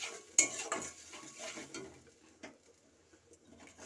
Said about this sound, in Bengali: দিয়ে এটাকে ভালো করে হালকা জল দিয়ে আমি কষাতে থাকবো, নাড়াচাড়া করতে থাকবো।